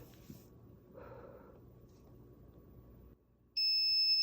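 Soft breathy blowing into a sensor on an ESP32 development board, then a sudden loud, steady electronic alarm tone starts and keeps sounding to the end.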